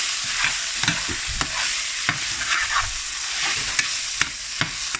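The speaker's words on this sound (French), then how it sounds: "ma viande n'a pas bouilli, ça a bien cuit" Ground beef fries in a pan for a sandwich. A steady, loud sizzle runs throughout, broken by repeated scraping stirs. No one speaks.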